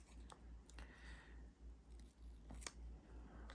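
Scissors snip through paper, trimming the berries off a planner sticker: a few quiet, crisp cuts spaced out over a faint, steady low hum.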